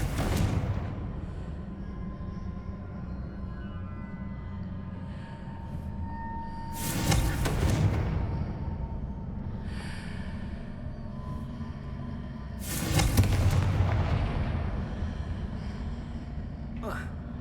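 Two heavy blasts from the Confringo spell go off in Hogwarts Legacy, booming over a steady bed of game ambience about six seconds apart, with a voice also heard.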